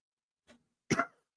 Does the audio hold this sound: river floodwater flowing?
no